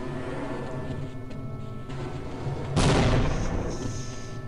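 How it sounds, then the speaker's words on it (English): In the video game Half-Life: Blue Shift, a low rumbling battle ambience gives way to a sudden loud blast, followed by lingering crackling debris and distant booms. "what is that explosive sound? This is kind of scary now."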